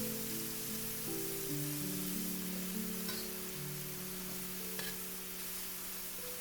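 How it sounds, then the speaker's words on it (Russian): Onion frying in a pan still greasy from cooking chicken, a steady close sizzle with constant hiss, a low background tone and a couple of brief clinks, no voices. "отправляем лук и обжариваем пару минут"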